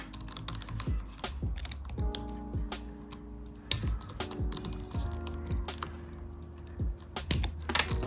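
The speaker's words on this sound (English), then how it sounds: "cut these down and file them a little bit to see if it really stays on there" Clipping and filing of artificial nail tips fitted on a trainer hand, heard as a run of close, sharp clicks and snips in an irregular rhythm, with soft rasping between them and no voices.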